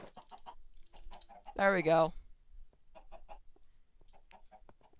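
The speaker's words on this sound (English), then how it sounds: "Chicken's cage. You evil people, you're trapping chickens." One loud, short chicken cluck from a Minecraft game, standing out between quiet keyboard tapping and brief talk in the room.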